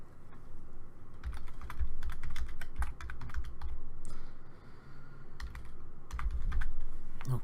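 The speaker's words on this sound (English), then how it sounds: "I'm going to type in some text at the bottom here" A computer keyboard rattles with close, quick bursts of key clicks that come in uneven runs with brief pauses, as text is entered into Photoshop, heard alone.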